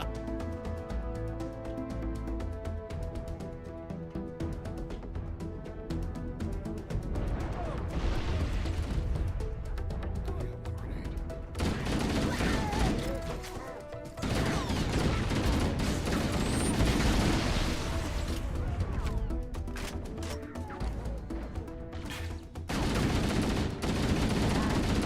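Assault rifle fire in the shooter Halo: Combat Evolved, dense bursts and crashing impacts layered over a loud, continuous game soundtrack, swelling and dipping across the stretch.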